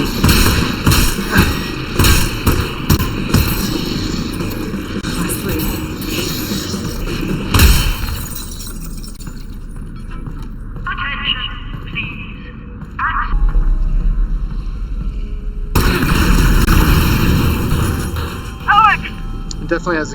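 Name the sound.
explosions in Half-Life: Alyx video game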